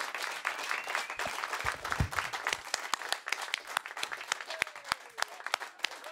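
A dance audience at a Saturday ball applauds steadily, a dense, sustained wash of many hands clapping at moderate distance, with a few faint voices mixed in.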